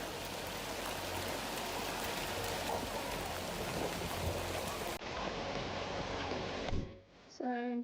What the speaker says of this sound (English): Hail poured down Sydney as the storm hit